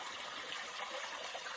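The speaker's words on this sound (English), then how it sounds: "There's lots of water just flowing through here." Water flowing through a canyon creek in the Arizona wilderness, a steady broadband rush and gush that holds evenly throughout, moderately faint, with no voices.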